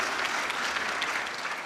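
Audience applause at a Marathi kirtan, a dense steady wash of many hands clapping together, fairly loud and even throughout with no voices above it.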